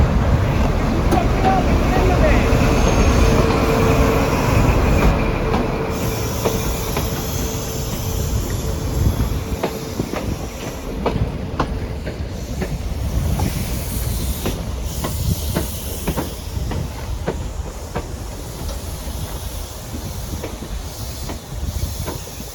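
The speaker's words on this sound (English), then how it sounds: "So we are back on the train now." Steady rumble and rhythmic clatter of a moving train heard from inside a carriage, with hissing and occasional clicks over the wheels.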